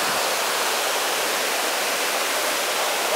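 Steady, loud rush of flowing water from a stream in a lush natural spot, a continuous broadband wash with no break and no voices over it.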